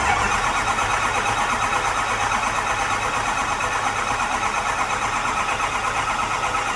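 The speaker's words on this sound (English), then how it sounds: "let's get it fired up, see what it does, and hopefully the engine's all good and it doesn't blow up on us" A diesel race truck engine fires up and runs at a loud, steady roar that fills the whole stretch without letup, with no speech over it.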